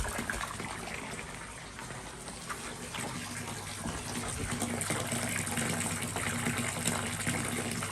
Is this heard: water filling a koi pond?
yes